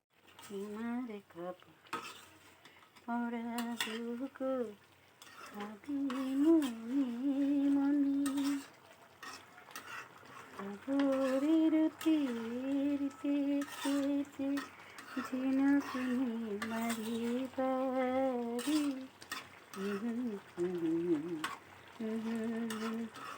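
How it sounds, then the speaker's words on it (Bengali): Katla fish head and radish curry being sautéed and stirred in a pan, a soft steady sizzle with occasional scraping, largely covered by melodic music playing throughout. "ভালো মতো কষিয়ে নিই, কষে আসতে থাক।"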